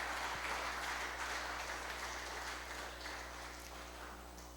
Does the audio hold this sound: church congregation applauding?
yes